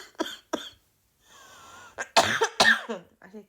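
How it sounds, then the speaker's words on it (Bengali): Several sharp, close coughs come in quick bursts, with a quiet pause in between and a final cluster of harsher hacking coughs. "আচ্ছা কাশি হইতেছে"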